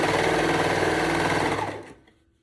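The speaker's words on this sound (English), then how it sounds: "Sewing at a 3/8 inch seam allowance." Sewing machine stitching a 3/8 inch seam on reversible swim bottoms, a fast steady mechanical whir up close that stops abruptly near the end.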